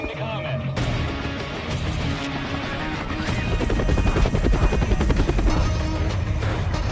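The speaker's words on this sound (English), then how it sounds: "Now they're sending a chopper with Ryan Scott" Helicopter in a Persian-dubbed movie news scene about a runaway train: rotor thumping builds under a voice, growing louder and more rhythmic toward the end.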